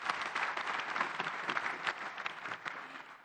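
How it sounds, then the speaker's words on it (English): Steady applause from a conference audience at an urban forum in Nairobi's KICC, a dense continuous patter of many hands at moderate loudness with no voices on top. "A big round of applause to His Excellency."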